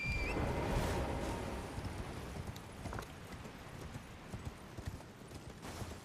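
Horse hooves clip-clopping in a steady rhythm over a loud rushing ambience in the video game Elden Ring, with occasional mechanical clicks and no voices.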